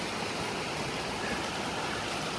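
Waterfall and stream flowing on a summer hike, a steady dense broadband rush of water with no breaks, close and full, with no voices.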